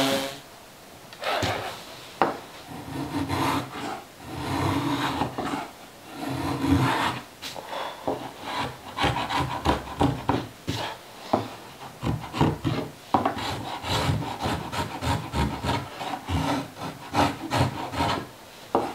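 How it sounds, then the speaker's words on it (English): Hand sanding of rough-cut wooden window pieces with rot pockets for a handmade earthbag workshop window: steady rasping back-and-forth strokes in uneven bursts, close and fairly loud, with no talk. "just giving them a rough sand and we'll carry on"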